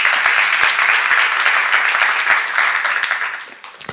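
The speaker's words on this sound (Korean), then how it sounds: "박수 한번 쳐봐" A church congregation breaks into dense, sustained clapping at a seminar, a steady wash of many hands that thins slightly toward the end.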